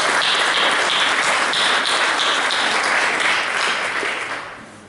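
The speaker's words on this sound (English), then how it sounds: "I would like to applaud them" Conference audience applauding after a technical talk, dense steady clapping from a sizable crowd that tapers off toward the end.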